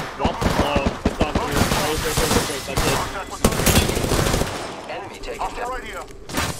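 Rapid bursts of gunfire from a squad battle in the video game Apex Legends, dense and loud with overlapping shots, while players talk over the action.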